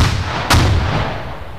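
A single heavy gunshot booms in a military game, a sharp crack over low rumbling battlefield noise that lingers briefly afterward.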